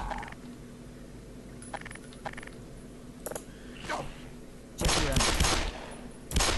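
Gunfire in the Black Mesa video game, with scattered sharp shots early on and a loud, dense burst of rapid fire near the end, heard without speech.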